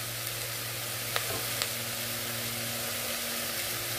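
Steady sizzling of beef frying in a pan as kaldereta sauce goes in, a continuous broadband hiss with a couple of brief clinks or stirring taps, no voices.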